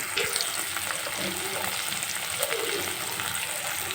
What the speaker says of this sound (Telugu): సాల్ట్ అంతా వేసేసి బాగా ఫ్రై చేసుకోవాలి